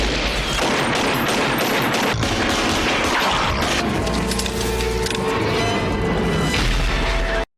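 Rapid, dense gunfire from a scene in the movie Tremors, loud bursts and booms piling over each other continuously with metallic clatter, cutting off abruptly at the end.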